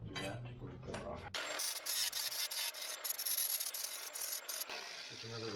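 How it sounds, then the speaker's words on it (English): A cutoff wheel grinds against the steel frame rail of an 83 Toyota Celica, a harsh high rasping whine held for several seconds, steady and close, no talk. "Just remember, this is a cutoff wheel, not a grinder."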